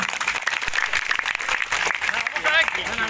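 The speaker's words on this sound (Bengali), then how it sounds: "এই জন্য আমি সকলের কাছে একটা হাততালি চাচ্ছি" Crowd of students at a school giving a round of applause after a cricket tournament, continuous clapping with voices and chatter mixed through it.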